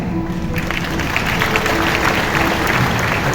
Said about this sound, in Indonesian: tepuk tangan buat kita Yesus